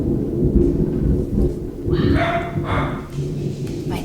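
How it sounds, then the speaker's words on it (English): Thunder from a thunderstorm rumbles low and heavy indoors, rolling in long swells while a dog barks and whines over it. "My dogs do not like that thunder."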